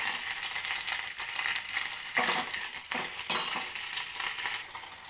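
Dried fish roasts in hot oil in a pan until golden, for an egg and dried-fish curry. A steady close sizzle runs throughout, broken by stirring scrapes.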